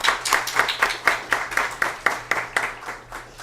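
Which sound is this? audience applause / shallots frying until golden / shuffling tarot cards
audience applause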